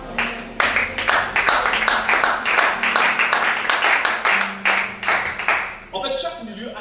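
An audience at a church worship service claps in a fast, steady rhythm for several seconds, loud and close, then the clapping stops abruptly while voices carry on underneath.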